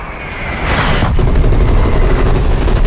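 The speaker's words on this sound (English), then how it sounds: "Hostile artillery targeting active. Artillery inbound." Artillery shells landing in a Cold War shooter game, a loud rushing whoosh that breaks into a heavy sustained rumble of explosions and crackling fire, close and continuous.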